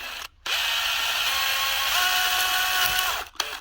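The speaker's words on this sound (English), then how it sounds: "drill the head of the rivet out without slipping off and breaking the glass" A small power drill whirs steadily at close range while drilling out a rivet head on a Mini GT Datsun Wagon model car, starting after a brief pause and stopping abruptly near the end.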